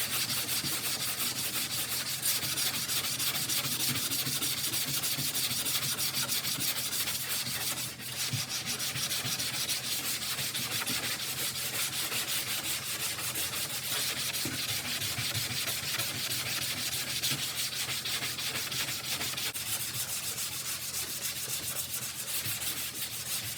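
High build primer over spot putty on a Pajero hood being hand sanded diagonally, a close, continuous scratchy rubbing that keeps a steady rhythm for over twenty seconds with no talking.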